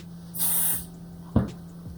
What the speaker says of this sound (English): So I'm turning my hoop, spray 505,